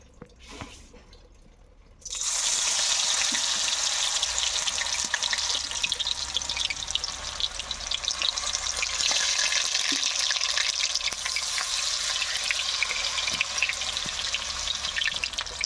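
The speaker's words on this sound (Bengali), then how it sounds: "এখন আমি এভাবে বড়া ভেজে নেব।" Banana stem fritters (bora) fry in oil, a dense, steady sizzle that bursts in after a quieter first two seconds and holds loud and close to the end, with no talk.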